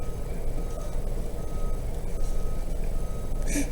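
Garbage truck backing up, its reversing alarm beeping steadily in a loud, close rumble of idling engine noise, no voices.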